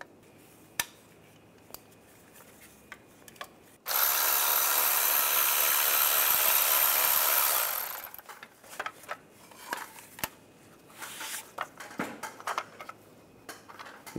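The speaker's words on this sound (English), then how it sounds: "Use a 10 millimeter socket, take that bolt out." A 10 mm socket working a bolt loose from the underbody shield of a Cadillac SRX: scattered metallic clicks, then a loud steady whirring burst lasting about four seconds, then more scattered clinks and taps.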